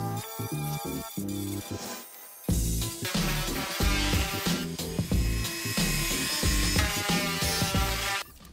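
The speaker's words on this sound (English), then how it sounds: "The Dremel slipped a bit and left a small mark above the opening, so I just roughed up the acrylic around the opening to blend it in." A Dremel rotary tool roughs up acrylic on a DIY cat litter cabinet, giving off a close, buzzing high-pitched grind in short repeated passes with brief pauses between them.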